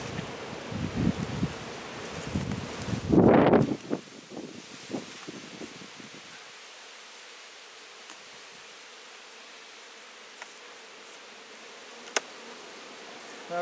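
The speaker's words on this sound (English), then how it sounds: "The flying bees will come back" A steady, close buzzing of many honey bees flying around a hive with rustling at the start, then a lower, continuous hum that carries on for several seconds.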